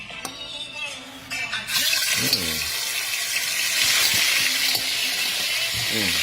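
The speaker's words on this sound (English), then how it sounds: "So my oil is hot. So let's go. Let's take the meat and put it in." Meat drops into hot oil and bursts into a loud, steady sizzle after a short stretch of talk and handling at the start, continuing strong to the end.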